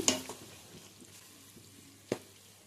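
Fried chicken, potato pieces and noodles stirred in a pan: a soft, steady sizzle with light scraping, punctuated by two sharp utensil clinks at the start and near the end.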